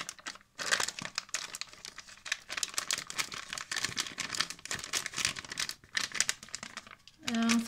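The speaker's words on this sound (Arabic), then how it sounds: "هنفضي محتويات الكيس كله زي ما انتوا شايفين" Crinkly plastic rustling and crackling, a bag of henna powder being shaken out and emptied nearby, with a short tone near the end.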